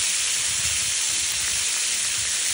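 Grouper fish frying in a pan of oil with ginger, a steady close sizzle and hiss throughout with no talk.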